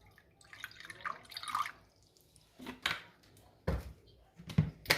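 Apple cider vinegar is poured onto a chickpea salad in a few short, soft splashes and drips, close and quiet, separated by pauses.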